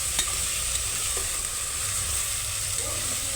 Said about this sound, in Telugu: వేసుకున్న తర్వాత బాగా కలుపుకోవాలి